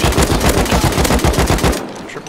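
Loud, close gunfire in the survival game Rust, a fast string of around ten evenly spaced shots that stops abruptly near the end.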